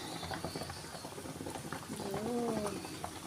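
Hot sauce poured over steamed lapu-lapu fish flavored with lemongrass gives a continuous sizzling, bubbling patter, close and moderately loud, with a faint whistling tone partway through.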